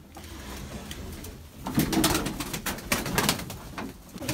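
Mardin tumbler pigeons, including a roof-trained blue bird, coo repeatedly close by, their low throaty calls swelling in the second half with light rustling and no talk.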